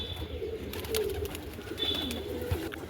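Soft, low cooing from pigeons, with a few faint bird calls over steady background noise; no one speaks.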